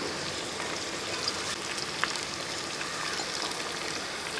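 Thinly sliced onions sizzle and fry in a pan while vegetable egg rice is cooked, giving a steady, even hiss with no talking.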